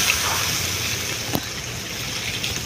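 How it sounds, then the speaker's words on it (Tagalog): Water trickles and pours steadily into a cooking pot for squid kare-kare, a soft continuous splashing flow with one brief clink partway through. "Naglalagay na po ako ng tubig."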